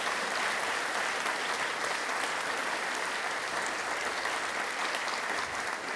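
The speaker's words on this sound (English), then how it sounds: "Let's give a final round of applause to our pupils." Sustained applause from an audience for school pupils, an even, dense patter of many hands clapping that holds steady from start to finish with no voices.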